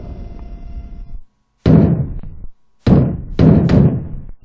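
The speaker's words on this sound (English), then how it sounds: "Sounds like somebody's braying on the door." Villagers in the N64 video game Conker's Bad Fur Day bang on a door in three loud, close bursts of heavy thudding knocks, following a short low hum and a brief silence.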